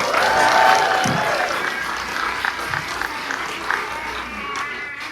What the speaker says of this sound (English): One more round of applause, please, everyone.